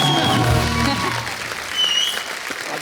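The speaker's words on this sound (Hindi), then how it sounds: "तालियां हमारे सारे कलाकारों के लिए।" A studio audience applauds the performers on a TV comedy show, with dense, sustained clapping that stays loud and then eases slightly, mixed with some crowd noise.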